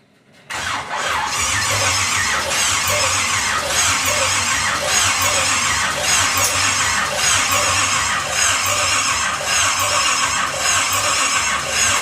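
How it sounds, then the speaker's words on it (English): A 1950 Pontiac gasser with a 350 engine cranks over without ignition, the starter whirring loud and steady in a fast rhythmic churn for about eleven seconds without catching. "We're gonna turn it over without ignition just to get some fuel moving."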